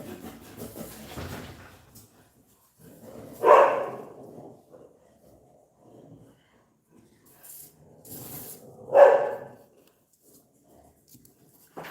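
A street dog barks outdoors, two short barks about five seconds apart, fairly faint and at a distance, separated by quiet stretches with soft background noise.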